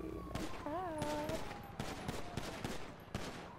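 Police shoot in the video game GTA 5, a rapid burst of gunfire followed by scattered single shots, with a voice talking over the shooting.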